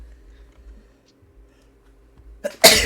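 A single sharp sneeze bursts out near the end after a quiet, nearly silent stretch.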